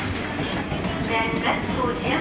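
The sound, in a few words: Kozhikode–Thiruvananthapuram Jan Shatabdi Express train at platform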